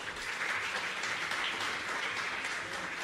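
Applause from a comedy show audience, a dense steady wash of clapping that holds at an even, loud level throughout with no voices over it.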